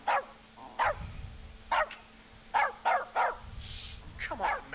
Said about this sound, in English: Come on, man, you're upsetting the dog.